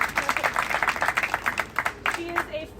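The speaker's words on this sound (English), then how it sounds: "let's all clap for Molly." Audience applause at an academic talk series on quantum gravity: a steady patter of many hands clapping close by, with voices speaking over it throughout.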